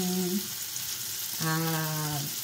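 Eggplant and anchovies sizzle steadily as they fry in hot oil, a continuous crackling hiss with a tonal hum running through it.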